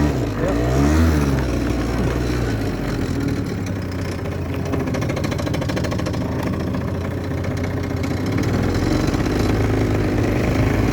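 A Kymco MXU 50 quad fitted with a Malossi 70cc kit, 19 mm Malossi carburettor and Narak variator drones loudly and steadily as it accelerates and holds speed, a continuous engine note throughout.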